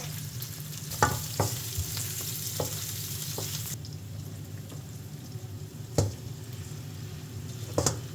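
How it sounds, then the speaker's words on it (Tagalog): Onion and garlic sauté in a hot pan for coconut-milk lobster, a close, even sizzle with sharp clinks and scrapes of a spatula stirring at intervals, no one speaking. "igisa muna namin sa sibuyas at bawang."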